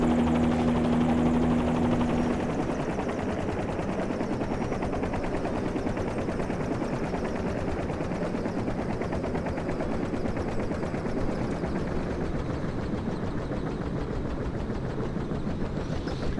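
Helicopter in Microsoft Flight Simulator 2020 shutting down on the ground at Marathon, a steady broadband rotor and turbine roar that holds at an even loudness throughout, with a faint tonal hum at the very start.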